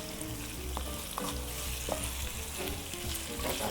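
Food fries in a pan with a little added water, a continuous close sizzle with soft stirring clicks and bubbling throughout.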